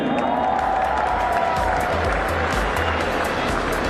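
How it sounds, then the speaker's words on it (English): A crowd at a celebrity charity football match applauds the Golden Glove goalkeeper award: a broad, even roar of clapping and cheering with a low rumble beneath, steady from start to finish. "Can we have a big round of applause for Mark Robinson once again"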